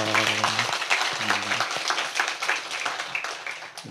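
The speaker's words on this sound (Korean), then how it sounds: "다시 한번 우리 주님께 감사의 박수 한번 올려드리죠." A congregation applauds in thanks during a church service, with brisk clapping rising over a brief sustained tone at the start, then a steady, moderately loud patter of many hands.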